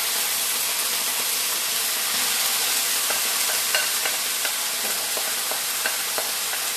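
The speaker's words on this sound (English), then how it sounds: "I'm gonna add my cabbage. I'm gonna put my cabbage in." Washed cabbage stir-fried in a pan for a Jamaican vegan dish, giving a strong steady sizzle and hiss with scattered crackles and light stirring clatter, close and constant.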